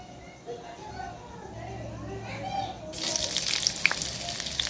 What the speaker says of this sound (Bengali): আমি এবার পেঁয়াজ কুচিটা দিয়ে দেবো